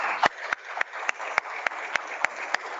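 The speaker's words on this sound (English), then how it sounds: "please thank the panelists with a big round of applause" Applause from an audience, with sharp, evenly spaced claps standing out above a steady wash of clapping that lasts the whole stretch.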